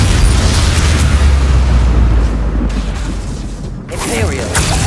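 Spell-casting blasts from the video game Hogwarts Legacy: loud, continuous booming explosions with heavy low rumble and crackle, a brief dip, then another burst, with in-game voices heard among the blasts.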